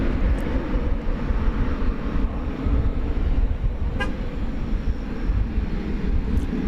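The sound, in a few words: Boeing 737 jet airliner at DFW Airport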